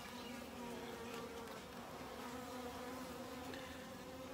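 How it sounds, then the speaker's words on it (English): Honey bees swarm over a top bar hive comb during a midsummer inspection, their close, continuous hum holding an even level with no talking. "It's covered in bees."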